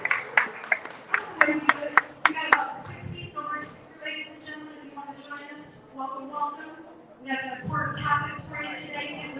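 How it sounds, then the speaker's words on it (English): Audience clapping for guests at a round-table event on college eligibility, bright claps up front fading within a few seconds, then a person talking over the room. "Can we give a big round of applause for our guests joining us?"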